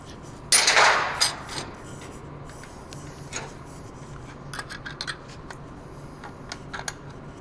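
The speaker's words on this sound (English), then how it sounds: "I'm going to use my screwdriver to pop in this spring here." A screwdriver works a brake shoe spring into place on a non-servo drum brake: a short burst of scraping metal, then scattered light clicks and taps of metal on metal, close and fairly quiet.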